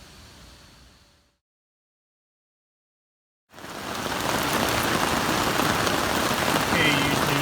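A heavy rainstorm drums hard on the fly of a NEMO Hornet 2019 two-person tent, a dense loud roar that starts abruptly after a brief silence and holds steady.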